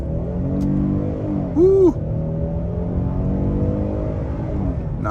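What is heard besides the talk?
2023 Hyundai Palisade Limited accelerating in sport mode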